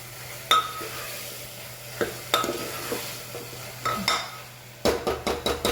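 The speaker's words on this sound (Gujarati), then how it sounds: "સરસ મિક્સ કરી લઈએ. ગેસની ફ્લેમ ફૂલ જ રાખવાની છે" Makhana ice cream mixture is stirred in a pan over a full gas flame, a soft sizzle running under sharp metallic scrapes and clinks of the spoon against the pan, closing with a quick rhythmic series of scrapes.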